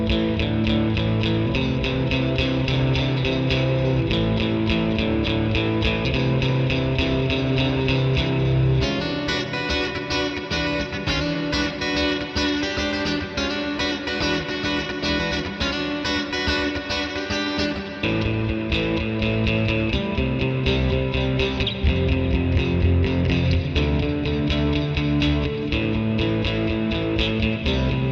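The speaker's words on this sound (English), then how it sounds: "here's the dirty sound from the Rabea" Distorted electric guitar played through the Neural DSP Rabea amp plugin, a thick, saturated dirty tone in a continuous heavy riff with chugging palm-muted passages and sustained chords, loud and alone.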